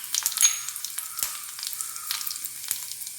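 Dried red chillies dropped into about a spoonful of hot oil for tempering, giving a steady, crisp hiss and crackle with scattered sharper pops, fairly close and with no talk.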